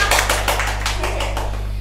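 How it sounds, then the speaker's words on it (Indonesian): A few people clap hands in a small podcast studio, a brisk run of sharp, close claps lasting under two seconds over a steady low electrical hum. "Tepuk tangan"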